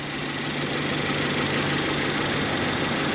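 A 1997 Toyota Tercel CE's engine idles steadily at close range, a continuous low hum with a faint shake and no talk over it.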